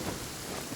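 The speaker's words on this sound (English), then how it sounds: "Uh-oh! Lightning storm!" Steady rain hissing across the scene with a low thunder rumble underneath, a lightning storm in the Genshin Impact game world, continuous and fairly close, no voices.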